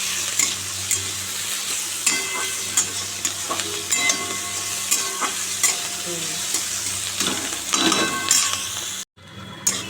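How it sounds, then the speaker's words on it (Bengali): Broad beans and green chillies fry in a pan with a continuous sizzle, broken by repeated scraping and clinking strokes as a spatula stirs them. The frying is close and fairly loud, with no speech, and stops with a brief cut near the end. "এখন এই সিমটা ভাজবো"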